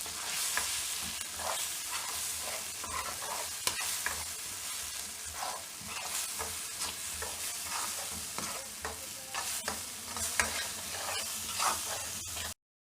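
Eggs and onions cook in a pan over very low heat for anda bhurji, a steady soft sizzle with repeated spoon-stirring scrapes throughout, close and alone with no talk.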